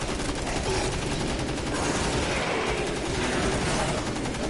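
Gunfire in a video game: dense, continuous bursts of rapid shots fill the whole stretch at steady loudness, with a faint voice now and then underneath.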